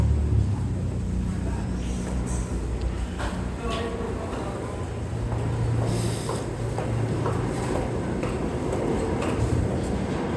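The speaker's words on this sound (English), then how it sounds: "here we go on the subway, friends." New York City subway train riding, a continuous rumbling roll with rattles and occasional squeals, fairly loud, while a voice talks intermittently over it.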